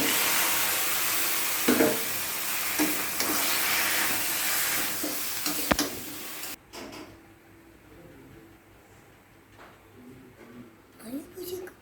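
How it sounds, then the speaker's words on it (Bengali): Cut ridge gourd frying with mustard paste in a pan, giving a strong steady sizzle and hiss that drops sharply partway through to a softer crackle. A person talks over the cooking. "এখন এই যে কাটা ঝিঙেগুলো যে এখন দিয়ে দিচ্ছি।"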